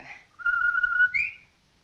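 A person whistles in the 1946 film The Strange Love of Martha Ivers, a short clear rising note held for about a second and then leaping higher, close and alone.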